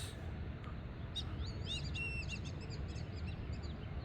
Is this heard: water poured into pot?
no